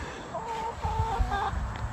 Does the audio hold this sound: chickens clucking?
yes